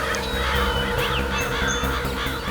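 Crows cawing and honking together in a dense, continuous chorus near water, loud and close, with no voices over it.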